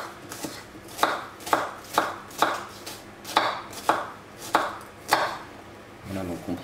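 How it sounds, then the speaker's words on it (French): A knife chops a shallot on a board in quick, even strokes, about a dozen sharp close thuds in a steady rhythm, then a brief softer handling sound at the end. "On va prendre maintenant l'échalote, on va la couper ça rapidement"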